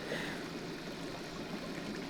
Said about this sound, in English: We finally got current back in this river.